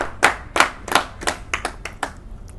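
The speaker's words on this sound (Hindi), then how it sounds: "तो एक बार जोरदार ताली हो जाए गोपाल भाई के लिए यार" Audience members at a poetry event clap for the host in a series of about eight sharp, separate claps that start strong and grow quicker and lighter, with no talk over them.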